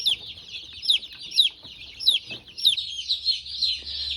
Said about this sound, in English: You'll hear quiet chirps instead of these really loud, sharp chirps like you hear right now.